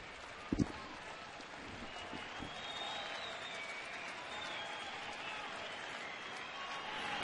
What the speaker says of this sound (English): Crowd getting into it.